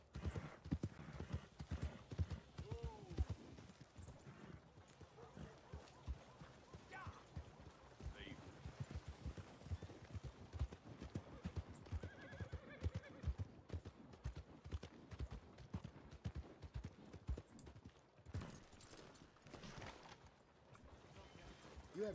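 A horse in the WildRP video game clip-clops along at a steady trotting rhythm, hooves close and prominent, with a brief whinny partway through and occasional game effects in the background.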